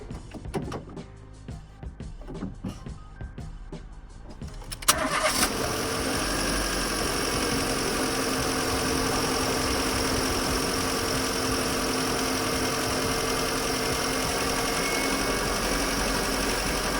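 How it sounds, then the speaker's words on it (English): A car engine cranks and catches during a battery cranking test, a short starter burst after some clicks and handling noises, then settles into a steady, continuous idle that runs on unbroken, close and moderately loud, with no talk. "obviously the engine's running now, RPM detected"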